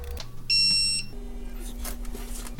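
A digital torque wrench alert while tightening engine cylinder heads: a short, loud, high-pitched electronic beep of about half a second, followed by a lower steady tone amid mechanical background noise.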